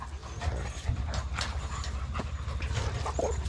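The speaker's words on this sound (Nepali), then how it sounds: "कस्तो छैन कुकुर आमा यसको टाउको त मान्छेको जस्तै छ" A dog pants close by in quick, steady breaths that keep up without pause, with faint background noise and no talk.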